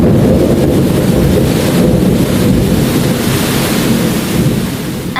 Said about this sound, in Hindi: उस रात बहुत ज़्यादा आंधी आई और तेज बारिश हुई।